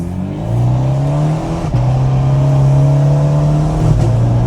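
A small, feisty sports car engine blips and revs on downshifts from inside the cabin, a loud buzzy drone that rises, drops sharply with each gear change, then climbs again.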